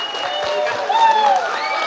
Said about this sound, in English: give a really warm round of applause for our CAM students